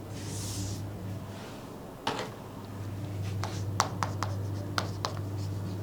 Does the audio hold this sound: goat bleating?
no